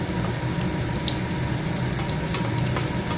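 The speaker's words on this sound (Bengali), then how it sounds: "রসুনটাকে একটুখানি ভালো করে ভেজে নেবো লাল লাল করে" Garlic frying in a pan until browned, a dense, steady close sizzle of hot oil with faint spatters and no voices.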